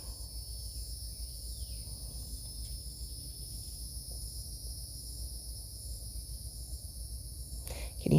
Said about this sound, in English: Can you hear those cicadas?